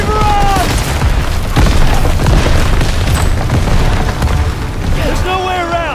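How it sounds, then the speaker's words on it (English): Artillery barrage in the World War II shooter Call of Duty: WWII, a dense continuous roar of heavy booming explosions lasting throughout, with shouted voices audible at the start and end. "Get down! Artillery barrage!"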